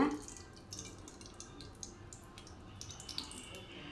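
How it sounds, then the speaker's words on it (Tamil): Sesame oil poured into a cooking pan for an aloe vera curry, giving a faint, thin dripping trickle at low level throughout. "இப்போ அதுக்கு தேவையான நல்லெண்ணெய் ஊற்றிக்கிறோம்ப்பா"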